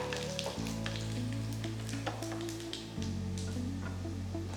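Onions and dried red chillies fry in a pan for a Kerala mutton mappas curry, giving a steady close sizzle with light crackling and a few soft stirring taps.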